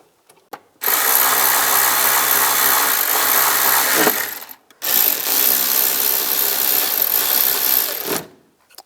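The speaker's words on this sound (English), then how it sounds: "Get those started and then tighten them down." A power ratchet tightening bolts during shock absorber replacement on a 2004–2010 BMW X3, two loud, sustained whirring bursts of about three and a half seconds each with a brief pause between, close up, no talking.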